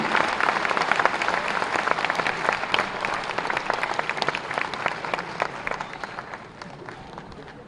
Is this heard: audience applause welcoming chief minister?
yes